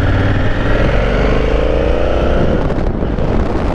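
A 2018 Honda Africa Twin motorcycle pulls hard in second gear, its engine a loud, close, continuous roar with rising pitch and a brief dip near the end.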